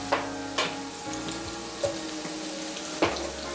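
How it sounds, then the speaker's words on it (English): Onions tumble into hot oil with fried green chillies in a pan for a fenugreek and tomato curry, giving a soft steady sizzle broken by several scraping stir strokes, with no voices. "once the green chilli are fried properly, now add the onions"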